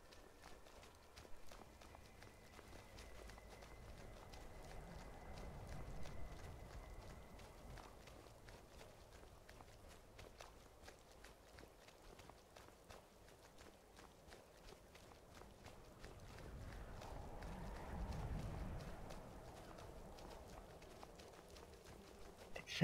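Running footsteps in Skyrim, steady and rhythmic, patter along continuously over uneven ground, with several companions' steps overlapping in a faint clip-clop cadence and soft swells of wind and ambience in the background.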